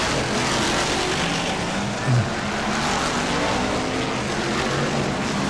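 BriSCA Formula 1 stock cars racing in the closing laps of an event at Northampton, a loud, continuous roar of several engines with steady crowd-level din throughout.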